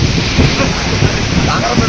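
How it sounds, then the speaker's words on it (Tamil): A violent cyclone-strength windstorm with torrential rain lashing a toll plaza in Kallakurichi, a loud constant roar of wind buffeting the microphone with rushing rain, continuous and close, no pauses. "சூறாவளி காற்றுடன் அடித்து செல்லும் பேய் மழையால் பரபரப்பான சுங்கச்சாவடி"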